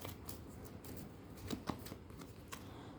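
Tarot cards being shuffled and drawn at a reading table: soft, quick riffling and papery flicks with a couple of sharper snaps near the middle, close and fairly quiet with no voices.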